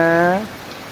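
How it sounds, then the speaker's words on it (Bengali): Rain falls as a soft, steady hiss, faint beneath a voice that speaks briefly at the start. "বৃষ্টি হচ্ছে দেখো বৃষ্টি হচ্ছে"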